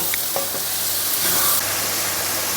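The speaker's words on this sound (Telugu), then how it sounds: "ఇప్పుడు చిన్నగా కట్ చేసి పెట్టుకున్న సొరకాయ ముక్కలు వేసుకోవాలి. ఇప్పుడు ఒకసారి ఇలా కలుపుకోవాలి." Bottle gourd pieces with turmeric stirred in a hot frying pan, giving a steady close sizzle with scraping spoon strokes throughout and no talking.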